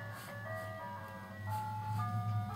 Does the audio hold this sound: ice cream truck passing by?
yes